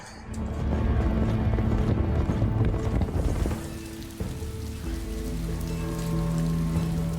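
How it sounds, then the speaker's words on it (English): Heavy rain in a scene from the TV series House of the Dragon pours steadily on surfaces as a dense hiss, easing slightly midway while low tones and music-like hum continue beneath. "A lot of rain."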